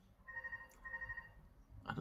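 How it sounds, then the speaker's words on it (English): A telephone rings faintly in two short electronic trills, with a soft thud at the end. "you hear the phone ringing? The phone never rings at the moment, but it's ringing now."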